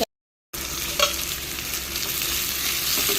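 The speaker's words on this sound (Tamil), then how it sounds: "வெங்காயத்தை போடுறேன் வெங்காயத்தை ஒரு வதக்கு வதக்கிட்டு" Onions hit hot oil with popped mustard seeds and curry leaves, bursting into a loud sustained sizzle after a brief silence, close by with a few stirring scrapes and no talking.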